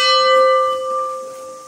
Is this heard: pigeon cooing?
no